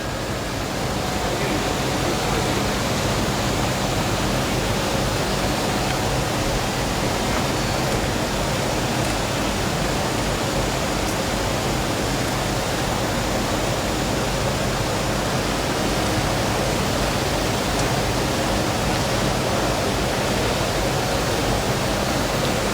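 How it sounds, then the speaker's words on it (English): Dense, even hiss of simulated heavy rain showering onto coated test panels in a lab, a continuous wash of water spray that never lets up. "in fact in our lab we have exposed these coatings to a continuous shower"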